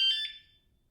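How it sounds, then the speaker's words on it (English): A Sur Ron X electric mountain bike's alarm gives a short, shrill electronic chirp, bright and tonal, that sounds alone and quickly fades to near silence. "bike alarm."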